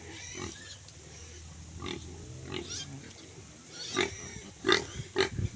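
A native pig sow and her four large piglets grunt and oink repeatedly at close range on a provincial farm, the calls irregular and growing louder toward the end, with no talk over them.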